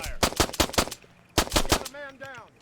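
Sharp bursts of automatic gunfire in Arma 3 crack in quick succession, two clusters of close, loud shots separated by a short pause, followed by a ringing tonal effect.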